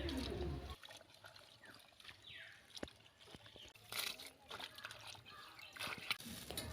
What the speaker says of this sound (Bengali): বেছে পরিষ্কার করে ধুয়ে নেব।